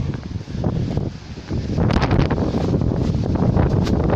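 Storm wind gusts across a garden plot by a shed, roaring and buffeting the microphone in a loud, continuous rush that strengthens midway, with rustling underneath.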